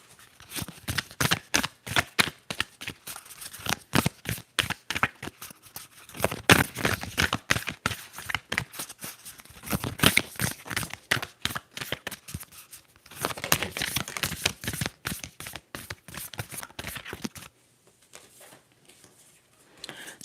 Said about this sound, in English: I'll just shuffle quietly and let them all pop out